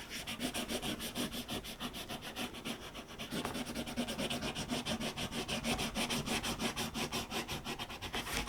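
A Santa decal is rubbed onto a DIY organizer, producing a steady, rapid back-and-forth scraping that runs continuously and stays fairly faint and close.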